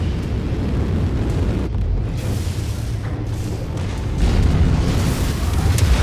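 A mech blows apart as a target is destroyed in the MechWarrior 5 video game. A loud, sustained rumbling explosion with heavy low booms swells again near the end, with no voices.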